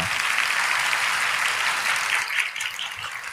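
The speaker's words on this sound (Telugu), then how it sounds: "మరి చప్పట్లు కొట్టాలి కదా ఇక్కడ." Applause from a church congregation during a Telugu sermon, steady and dense throughout, a broad crowd clapping that dips slightly near the end.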